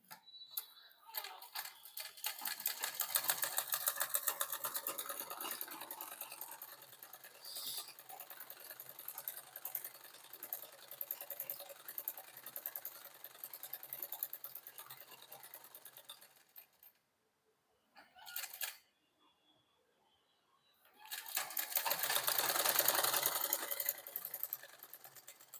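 A sewing machine stitching a sleeve seam by hand-fed fabric, running in fast, rattling bursts with short pauses and stops between runs, fairly faint and close, with no talking.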